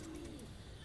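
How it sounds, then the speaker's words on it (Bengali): A pigeon coos once, a short low hum that sits close and fairly loud, with faint background noise around it. "একটি পায়রা।"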